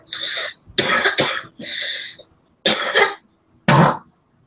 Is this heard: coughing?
yes